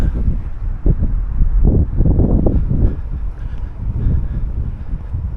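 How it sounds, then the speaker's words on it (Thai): Heavy wind buffets the microphone on a city street in downtown Victoria, a loud continuous low rumble with gusty surges throughout. "ต้องถ่ายด้านนี้เพราะว่าเดี๋ยว ลมมันเข้าแล้ว เสียงดังแล้ว"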